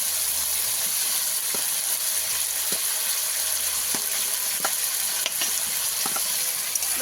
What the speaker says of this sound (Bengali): ভালো করে কষিয়ে নেবো যাতে করে সম্পূর্ণ মশলা পটলের গায়েও লেগে যায়